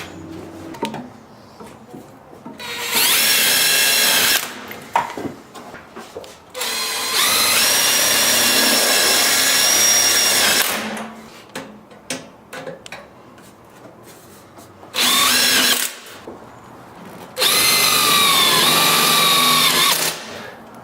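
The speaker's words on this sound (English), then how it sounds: "Now these sheet metal screws are good because you don't have to have a hole. They make their own hole." A power drill drives self-tapping sheet metal screws while a water heater is being installed, whirring in four separate loud bursts of a few seconds each, with quiet pauses and small handling noises between them.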